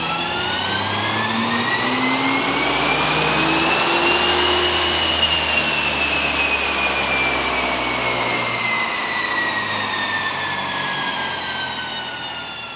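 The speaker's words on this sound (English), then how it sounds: "Enjoy this GTR putting down 570 wheel horsepower." A stock Nismo Nissan GTR runs hard on a dyno at about 570 wheel horsepower, one continuous loud engine roar with rising and falling harmonic tones as revs sweep up, peak near the middle, then ease back down.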